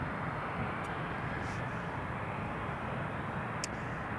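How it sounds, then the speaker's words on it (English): A KLM airliner's engines roar steadily at Newcastle Airport as it prepares to depart runway 07, a loud, constant low rumble with a few faint high ticks and no voices. "KLM is ready for departure to Amsterdam Schiphol"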